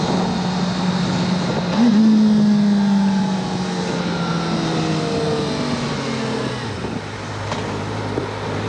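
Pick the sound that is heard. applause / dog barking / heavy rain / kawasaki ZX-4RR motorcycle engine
kawasaki ZX-4RR motorcycle engine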